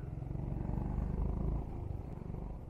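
A motorcycle rides ahead on a road in Nepal between Besisahar and Raxaul, its engine a steady, close, low rumble that swells briefly and then eases off.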